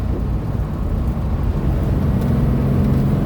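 A 1969 Porsche 912 in third gear gives a steady, loud, low engine drone under road and wind rumble, with no pauses.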